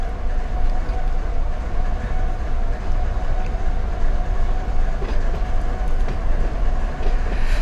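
Locomotives shoving rail cars back in the Run 8 train simulator game, Hesperia local: a steady, loud rumble of diesel engines and rolling cars, continuous throughout with faint clanks and no talking.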